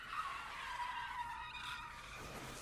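Tires skid hard beside a speeding truck at a busy crosswalk in a video game, a continuous loud screech lasting a couple of seconds with no talk.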